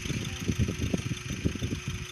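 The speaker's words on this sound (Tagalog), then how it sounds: "umaandar na yung sasakyan" A Hyundai Accent's turbo diesel engine, its intake, EGR and intercooler just cleaned, idles close by with a rough, pulsing low rumble that throbs unevenly for the whole moment.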